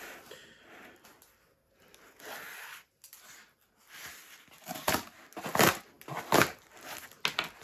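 A small lost parcel being unpacked by hand, with quiet rustling at first, then a run of sharp, loud crinkling and tearing bursts of packaging, close to the microphone and with no talking.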